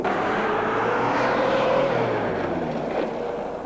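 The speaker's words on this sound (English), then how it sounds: "as you can see there are many cars coming" Several cars arriving and moving about a busy qat market called Madbah, engines humming steadily at moderate distance with a rising, passing tone midway through.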